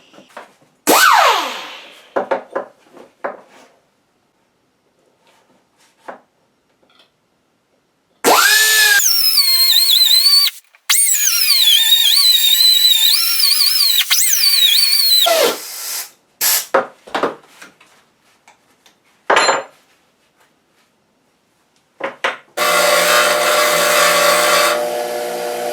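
A loud power tool cuts down a starter part for a GMT400 small-block V8 truck in long whining bursts that change pitch, broken by pauses, short knocks and a final steady grinding run, with no talk.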